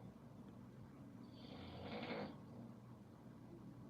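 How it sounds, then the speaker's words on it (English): A man snoring faintly somewhere in a room, one soft rasping snore swelling and fading over a quiet background hum, with no talk. "You hear my husband snoring?"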